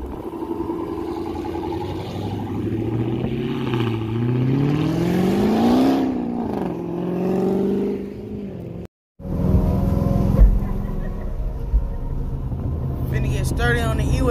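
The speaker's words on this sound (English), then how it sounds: "Tell me the Hellcat ain't gonna leave weak." A Dodge Hellcat at a car meet revs and accelerates loudly and up close, its engine note climbing and falling in long sweeps, cutting out briefly, then roaring back with steady heavy rumble; people talk over it.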